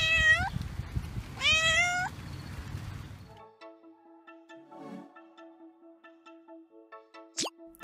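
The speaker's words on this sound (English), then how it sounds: "The answer is B, a cat." A domestic cat gives two clear, close meows in a row over a soft crackling background, followed by a quieter ringing electronic tone with a sharp rising chirp at the end.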